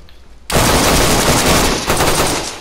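Sudden loud burst of automatic gunfire in the video game DayZ, starting abruptly after a quiet moment and continuing as a sustained, close, harsh rattle to the end.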